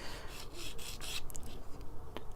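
A small plastic part from a 1:144 scale Revell Sikorsky CH-53G model kit is sanded by hand, producing close, soft rasping strokes in quick irregular bursts, fading near the end.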